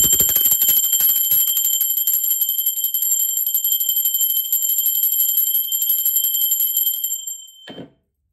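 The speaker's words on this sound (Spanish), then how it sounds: "ahora sí, va campana" A bright, sustained metal bell rings alone, close and clear, its tone holding steady for about seven seconds before fading out at the end.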